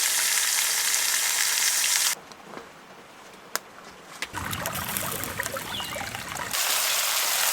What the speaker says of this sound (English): So I think maybe we'll grill our steak first.